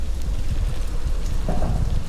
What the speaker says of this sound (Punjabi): ਮੀਂਹ ਹਜੇ ਤੱਕ ਪਈ ਜਾਂਦਾ ਹੈਗਾ